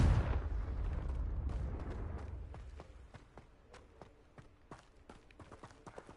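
Confringo fire spell explosion in the Hogwarts Legacy video game: one loud, deep blast at the start that fades into a crackling tail of scattered sharp pops and debris snaps. No voices.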